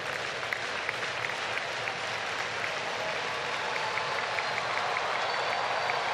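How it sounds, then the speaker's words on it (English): Baseball crowd at an Atlanta Braves home game against the Washington Nationals, a loud sustained roar of cheering and clapping from a large stadium audience, steady and swelling slightly with no clear single voice. "Listen to this crowd in Atlanta."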